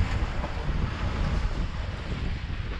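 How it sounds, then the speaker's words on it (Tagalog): Strong wind roaring steadily at sea during evening fishing from a boat, a dense, constant rush with waves mixed in, no talking. "Sobrang lakas ng alon mga kasima, lakas ng hangin, bigla lalong lumakas ang hangin ngayong paggabi na."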